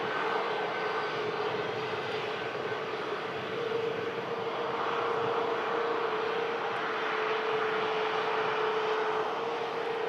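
A Pegasus Airlines jet from Istanbul at Manchester Airport, its engines making a steady, loud roar that holds nearly constant throughout, heard without any talk.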